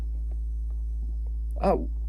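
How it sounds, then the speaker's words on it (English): A steady low mains-style hum from the Lofi 12 effect on a Sonicware Liven groovebox runs throughout with faint ticks on top, and a brief voice sound briefly rises over it. "I have no tape recorder which has a humming like this."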